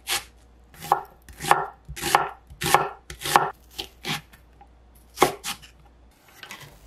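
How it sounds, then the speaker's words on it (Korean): A knife chops through sliced garlic and a thinly sliced onion on a board, a run of about ten crisp, evenly spaced cuts close to the mic, with a short pause before the last few strokes. "양파 1개는 얇게 썰어주세요."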